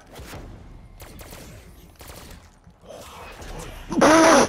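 Several bursts of gunfire from a dug-up weapon in Call of Duty zombies on the Origins map, with rapid cracks spread across the clip and a loud, harsh blast near the end.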